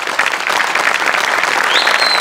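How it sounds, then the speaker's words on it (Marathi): A studio audience at a Marathi comedy show applauds loudly and steadily, a dense wash of clapping throughout, with a thin whistle near the end. "आणि या सगळ्यांसाठी एकदा जोरदार टाळ्या व्हायलाच पाहिजेत"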